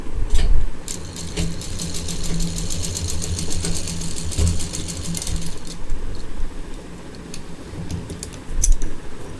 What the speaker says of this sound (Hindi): इस तरह से दूसरी तरफ का भी सिल देते हैं।